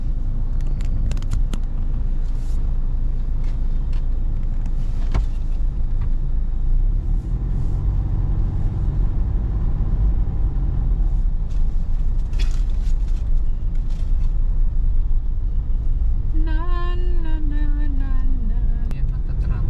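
A car driving home through heavy Binondo traffic, with a continuous loud engine and road rumble and a brief horn-like tone rising near the end.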